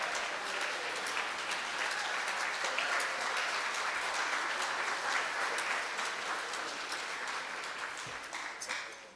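Dense, sustained applause from an audience at a diversity celebration after a poem, steady and full throughout before thinning slightly at the close.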